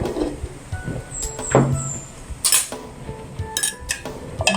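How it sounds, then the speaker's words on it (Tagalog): Sugar being stirred into coconut milk and blue ternate mixture, a utensil scraping and clinking against a bowl in short irregular bursts, close and fairly clear with no talk. "Now we will be mixing our sugar directly into the coconut milk and the blue ternate mixture"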